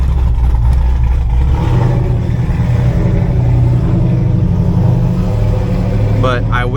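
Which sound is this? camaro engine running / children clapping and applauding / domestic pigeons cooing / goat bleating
camaro engine running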